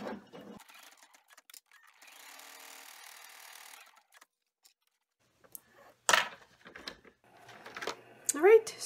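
An embroidery machine stitches a pocket tack-down on an in-the-hoop cell phone pouch, a brief buzzing mechanical run of about two seconds set between spoken remarks and handling noises.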